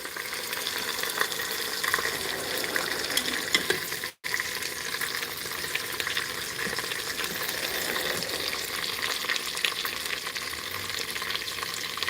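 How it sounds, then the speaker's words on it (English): Pot roast sautéing in an Instant Pot, a dense steady sizzling hiss close by with faint stirring noises, broken by one brief gap of silence partway through. "might saute this for a little while longer"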